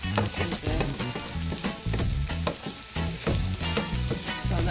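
Onions frying in a pan on medium heat, a dense continuous sizzle with rhythmic stirring and scraping throughout, close and steady, with no talking.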